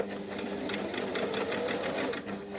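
Singer S1000EX domestic sewing machine running a stitch, a steady close-up mechanical whir with rapid needle ticking throughout, alone with no voices.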